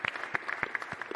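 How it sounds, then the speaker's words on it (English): Scattered audience applause at a boxing press conference for Beterbiev versus Bivol, a thin handful of distinct claps, faint and brief. "just a round of applause for Josh Warrington"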